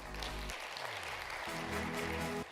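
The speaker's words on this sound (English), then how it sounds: "Please give them a big round of applause." An audience applauds steadily for the partners Saudi National Bank and Ra'ed Ventures at a startup accelerator event, with broad clapping noise filling the room over faint background music.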